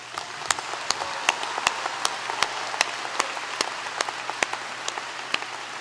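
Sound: audience round of applause at commencement

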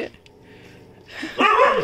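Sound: 45-day-old Chippiparai puppy barking

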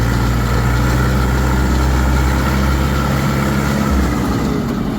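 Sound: DTZ 50 hp tractor engine running

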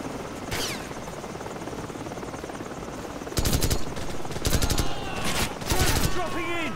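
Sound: helicopters and gunfire in video game Call of Duty 4

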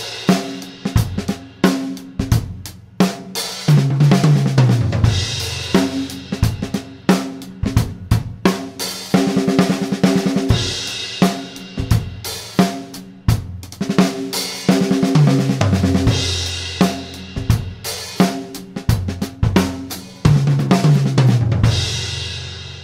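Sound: paradiddle sextuplet drum fill starting on beat 3

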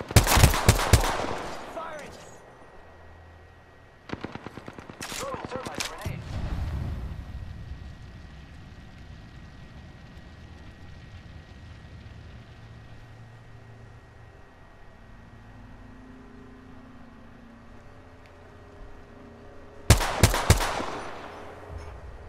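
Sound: gunfire in Apex Legends video game

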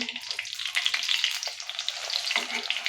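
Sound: flipping alu vadi frying in a pan

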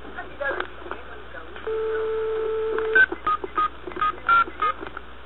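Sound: telephone dialing tones

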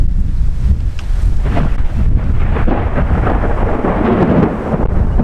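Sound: big thunderclap during a storm

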